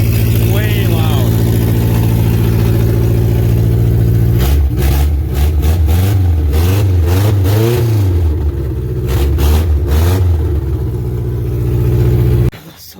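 A 1989 Dodge Raider's carbureted engine, running on a header with no full exhaust, idles loud and rough, then revs up and down in several bursts before cutting off abruptly near the end.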